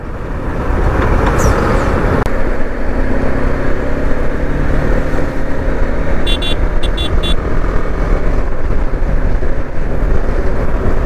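Road traffic and wind roar heard while riding a BMW G310 GS motorcycle on a busy road. A steady, loud engine and road rumble carries throughout, with a few short horn beeps near the middle.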